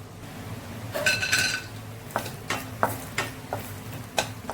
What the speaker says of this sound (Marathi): तेलामध्ये आपल्याला काजूगर थोडे फ्राय करून घ्यायचे आहेत